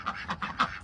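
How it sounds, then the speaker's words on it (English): Farm ducks quack four times in quick succession, fairly close and moderately loud, with nothing else in the background. "Come on, ducks."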